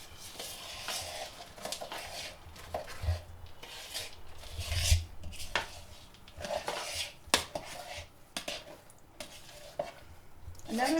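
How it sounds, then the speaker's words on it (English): Chocolate chips being stirred into thick cookie dough, a steady scraping, rasping churn with soft thuds from the bowl, close and continuous, with no talking. "We'll start with that and mixing in the chocolate chips."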